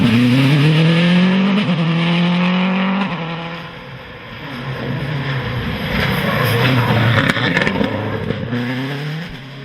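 A rally car races along an asphalt stage of the Wexford Stages, its engine loud and close, revving up and down through gear changes with a steady roar.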